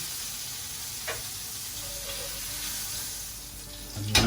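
Tomatoes sizzle in a frying pan with a steady, soft hiss that holds through the whole stretch, a faint clink near the start and a louder knock at the very end.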